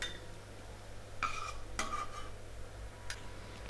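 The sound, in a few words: transferring roasted cashews and raisins into a vessel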